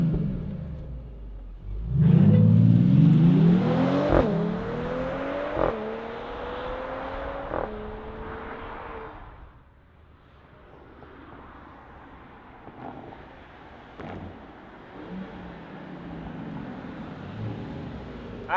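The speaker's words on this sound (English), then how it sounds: "Let's fire this up and see it zoom off." A 2025 Mercedes-AMG E53 performance sedan starts up and accelerates away, a loud rumbling engine note rising through several gear shifts before fading into distance, followed by quieter ambient road noise.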